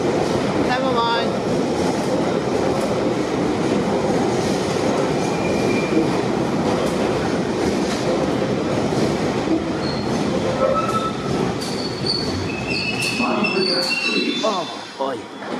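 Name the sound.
moving train carriage interior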